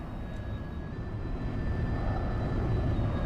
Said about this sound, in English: it sounds like it's a helicopter